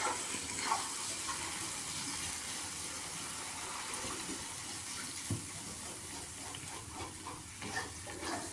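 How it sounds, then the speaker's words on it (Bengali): Water poured into a hot pan while cooking garlic butter paneer gives a soft, continuous watery rush and bubbling hiss, fairly faint and unbroken throughout. "একটু জল দিয়ে দিচ্ছি এর মধ্যে।"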